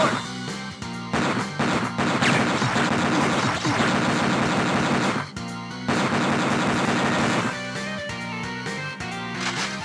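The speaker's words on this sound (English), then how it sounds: "Heavy machine gun!" Rapid heavy machine gun fire from the arcade video game Metal Slug 6, loud sustained bursts with brief pauses, mixed with explosions, crashes and game music.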